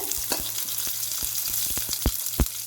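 Small shallots, garlic and ginger sautéing in oil for a country chicken curry, a bright steady sizzle punctuated by rhythmic scraping knocks of a spoon stirring against the pan, close and with no speech.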